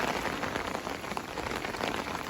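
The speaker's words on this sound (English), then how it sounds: "Nice little bit of rain that we're due." Steady rain pattering on a lake at a carp fishery after a hot week, a continuous even hiss of drops close by with no voices.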